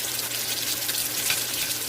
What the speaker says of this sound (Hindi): एक खुले बर्तन में हमने जो है ये देगची में वाटर डाल दिए